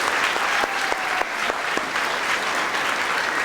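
Audience applause at an academic awards dinner honoring student recipients, dense sustained clapping from a large room with a few sharper individual claps standing out, steady and loud throughout.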